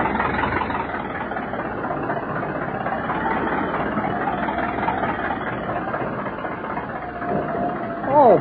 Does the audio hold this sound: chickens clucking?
no